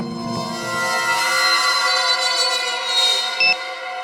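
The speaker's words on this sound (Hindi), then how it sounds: "कहीं धीमी आवाज में तो नहीं बजा अलार्म?" An alarm clock rings in a house with a steady electronic tone that stays continuous and moderately loud, with one brief extra beep near the end.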